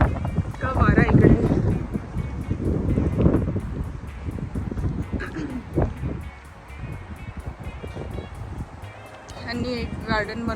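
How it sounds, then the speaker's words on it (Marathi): Strong wind gusts blow through tall pampas grass in a London garden, a rushing roar with buffeting noise on the microphone. A voice can be heard partly over it. "इतका वारा इकडे."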